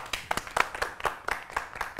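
A small audience claps unevenly in scattered, close hand claps for about two seconds, fairly quiet and with no talking.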